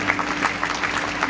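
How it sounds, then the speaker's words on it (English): A concert audience at a charity benefit applauds, the dense clapping steady and loud throughout the short burst with no voices on top. "give yourselves a round of applause"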